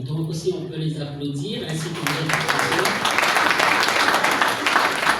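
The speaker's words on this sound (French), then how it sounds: "on peut les applaudir" A speaker's voice fades out and a room full of people breaks into sustained applause, dense and steady, filling the space.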